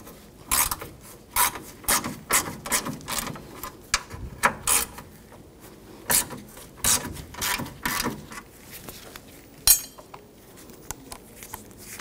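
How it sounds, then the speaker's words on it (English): A ratchet fitted with a 10mm socket loosens the bracket bolts beside the A/C condenser of a Honda HR-V, giving repeated close clicking strokes in uneven bursts with short pauses between them and no talk. "use a 10mm socket, take these two bolts out"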